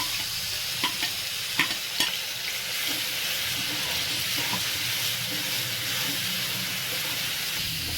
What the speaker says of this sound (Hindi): चलाते हुए पेस्ट को अच्छे से फ्राई कर लेती हूँ